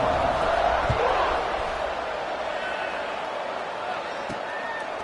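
Stadium crowd in an American football video game, a steady broad roar that holds at a fairly loud level throughout, slightly stronger at the start, with faint commentary-like voices mixed in.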